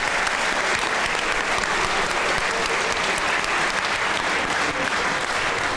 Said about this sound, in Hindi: ताली होनी चाहिए, ताली होनी चाहिए